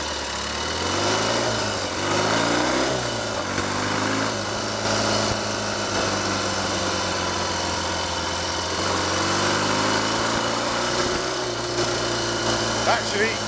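A Triumph/Royal Enfield 'Trifield' 500 trials motorcycle being ridden, its engine droning steadily and loudly up close, pitch rising and falling as it changes speed, with a voice talking over it.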